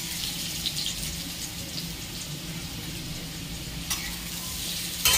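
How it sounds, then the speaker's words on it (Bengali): Potatoes frying in oil in a wok, a steady hissing sizzle with soft stirring, a brief clatter near the end, no speech. "দেখুন আলুটা আমার লাল লাল করে ভাজা হয়ে গেছে।"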